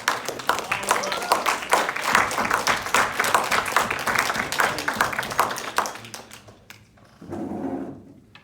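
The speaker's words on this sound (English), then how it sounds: "we should probably give them a round of applause" Audience applause at a college debate cup final, dense clapping filling most of the span before thinning out, then a brief burst of murmur or movement near the end.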